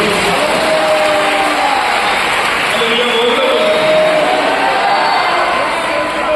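A church congregation at a Delhi worship service claps for the Lord, a dense steady wash of many hands sustained throughout, loud and close, with faint voices mixed in.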